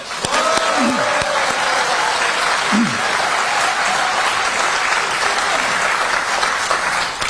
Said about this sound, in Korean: 서로 박수 한번 보내주세요